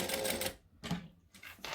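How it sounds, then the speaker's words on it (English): A sewing machine tacks layers of fabric for a wallet along the seam allowance, running in two short bursts of close, steady stitching separated by brief pauses. "I'm going to tack it on all 3 sides."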